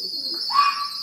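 Pigeons coo softly at a rooftop loft as they return home, a short low call with a brief rising warble, fairly close and on its own.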